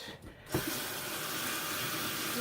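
Makeup brushes rinsed under a running tap at a sink, a steady close stream of water splashing continuously after a brief quieter start, with no talking.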